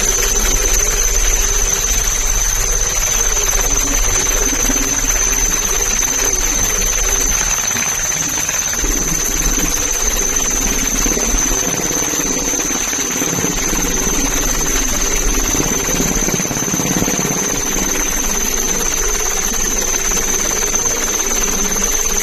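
Coast guard helicopter searching at sea for missing fishermen, a steady loud rotor and engine drone running the whole time with a constant high whine on top.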